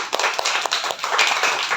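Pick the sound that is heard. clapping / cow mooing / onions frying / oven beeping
clapping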